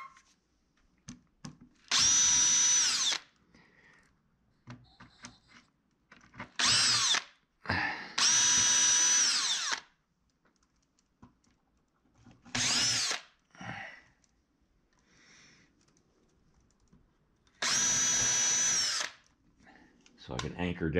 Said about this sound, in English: I'm going to drill a couple holes so my board doesn't split on me.